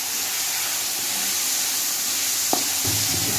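Chicken pieces frying in a pan while making Chinese-style rice, giving a steady close hiss and sizzle throughout, with a faint clink partway through.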